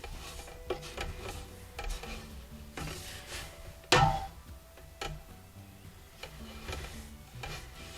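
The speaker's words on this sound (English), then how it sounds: "So you want to stir it and stir it and stir it, and it takes a long time" A spoon scrapes and knocks around a pot of thick, sticky melting candle wax, making soft, irregular stirring scrapes and ticks with one sharper clunk midway, fairly quiet and with no talking.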